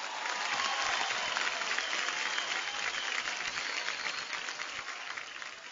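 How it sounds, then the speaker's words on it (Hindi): Studio audience of the Indian Idol singing competition claps loudly and continuously for a performer, a dense and even wash of applause with no voices over it. "अनु जी के लिए तालियां"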